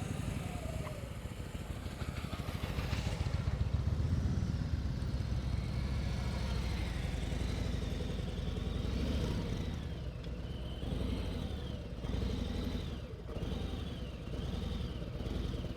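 Motorcycle engine held at low throttle in first gear during slow-speed riding practice, a steady rumbling idle-like drone with slight revving, continuous and fairly close.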